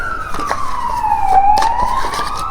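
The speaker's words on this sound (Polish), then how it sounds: "Nie, jakaś karetka właśnie jedzie." A passing ambulance siren wails, sweeping downward and back up in pitch, steady and fairly loud, with traffic rumble beneath it.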